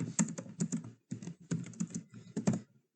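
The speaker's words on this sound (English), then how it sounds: "can type something like this" Quick bursts of keystrokes on a computer keyboard, close and fairly quiet, with short pauses between the runs of typing.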